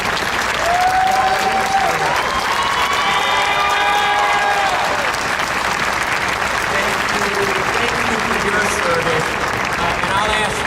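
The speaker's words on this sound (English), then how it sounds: "if I could ask for a round of applause" A crowd at a Blessing of the Fleet ceremony claps loudly and continuously for about ten seconds, with a voice speaking over the applause early on.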